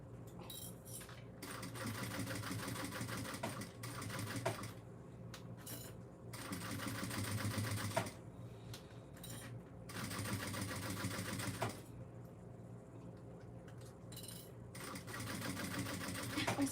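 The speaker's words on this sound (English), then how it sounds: "Now I'm top stitching at 1/8 of an inch." A sewing machine top stitches a handbag at an eighth-inch seam allowance, its fast needle chatter running in several steady bursts separated by short pauses, close and fairly quiet with no talking.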